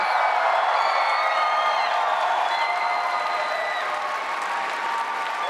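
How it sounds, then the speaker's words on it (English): A large audience at Star Wars Celebration Live gives a huge round of applause, with loud continuous clapping mixed with cheers and whistles that holds steady throughout. "So if we can all give a huge,"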